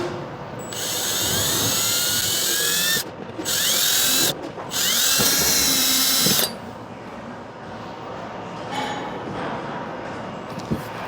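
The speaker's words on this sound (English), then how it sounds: "Let's get these others drilled." A power drill whines at high speed, boring holes in a kayak hull to mount a Garmin Striker 4 fish finder transducer arm. There are three close bursts with brief pauses between them, then the drill goes quiet.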